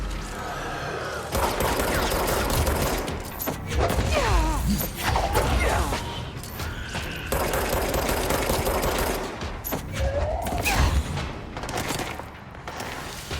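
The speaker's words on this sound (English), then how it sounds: "I'm shooting the person." Gunfire in the video game Control: dense rapid bursts of shots mixed with booms and crashing impacts, loud and continuous, with brief lulls between volleys.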